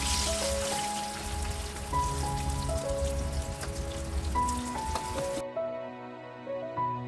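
Ground garlic, tomato, ginger and onion masala frying in hot oil, a dense continuous sizzle and crackle close up, cutting off near the end and leaving quiet background music.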